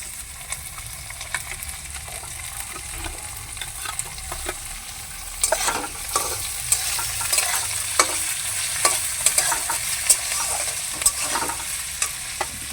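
Potato pieces go into a pan of frying onions for chira pulao, with a steady sizzle and repeated scraping stirs and clacks of a utensil against the pan, getting busier partway through.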